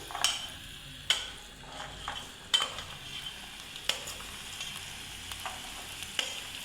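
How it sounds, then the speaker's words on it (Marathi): Okra added to a pan of onion, green chilli and spices frying in oil, with a soft steady sizzle broken by periodic sharp spatula scrapes and taps on the pan, fairly quiet and close, without talking. "आता याच्यामध्ये भेंडी टाकते"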